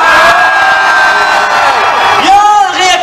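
Loud crowd cheering, whooping and shouting from a convention audience at Paris Manga 2014, sustained throughout as a dense roar, with a brief announcer-like voice rising near the end.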